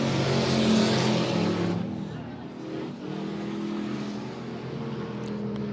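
Race cars in heat races at Monett Motor Speedway roar and drone around the track. A loud pack passes first, and the engine noise then settles into a continuous distant hum.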